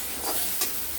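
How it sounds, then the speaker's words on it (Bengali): Hilsa fish curry base with potato and green banana is stirred with cumin powder in a hot pan, giving a short burst of sizzling with two quick scraping strokes close by. "জিরের গুঁড়ো দিয়ে আমরা নাড়াচাড়া করব।"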